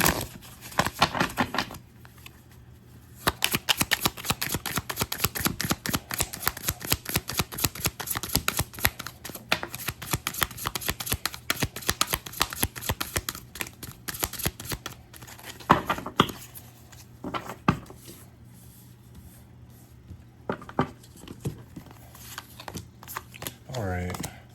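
Tarot cards are shuffled by hand in long runs of crisp riffling and flicking, close and fairly loud. A few short pauses break the runs, and a voice talks over part of it.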